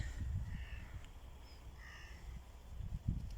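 Crows caw in a few short calls, outdoors by calm water with a low wind rumble underneath and faint bursts of conversation at the start and end.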